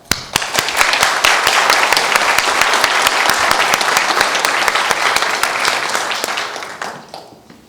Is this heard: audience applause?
yes